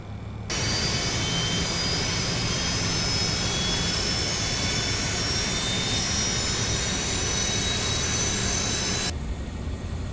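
Number 1 jet engine of a Just Flight F100 in Microsoft Flight Simulator 2024 spooling up, a loud steady turbine roar with a high whine that starts abruptly and holds for about nine seconds before cutting off.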